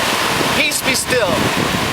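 Ocean waves and gusting wind at a beach, a loud rushing wash with wind buffeting the microphone and brief high squeaks over it, close and constant.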